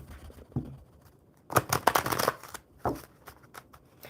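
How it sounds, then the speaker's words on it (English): A deck of playing cards is shuffled once in a quick riffle burst lasting about a second, with a few fainter card flicks and handling sounds before and after, close by in a quiet room. "One more shuffle."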